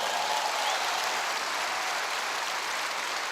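Dense, steady clapping from a large church congregation in Guatemala fills the space, a continuous wash of applause with no voices on top.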